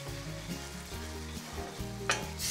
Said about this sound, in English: I'm going to scrub just to get all the bits in the pan.